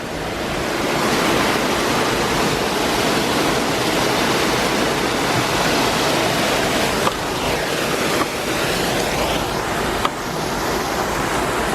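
Rushing water from a small waterfall pours steadily into a stream where a 3D printed water turbine is being tested, a loud, continuous broadband roar with a few brief knocks near the end.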